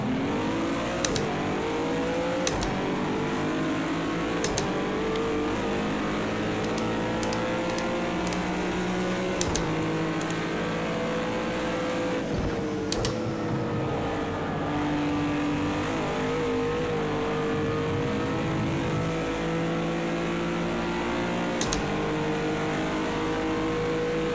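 Racing car engines in a sim racing game, a continuous harmonic roar rising and falling with revs over many seconds, with brief clicks and tire-squeal hints, no talk.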